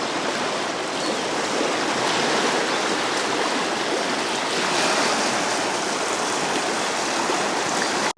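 A storm-swollen river streams past a dock in a continuous, loud rush with gentle surges, and no one speaks.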